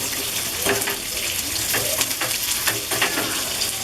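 Byadgi chillies dry-roasting in a pan over a low gas flame, with a steady crackling sizzle and occasional scraping as they are turned.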